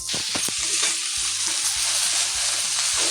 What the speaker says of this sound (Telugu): దీంతో పాటు నేను గోంగూర వేస్తున్నాను. గోంగూర దీంతో పాటు వేగుతుంది అనమాట.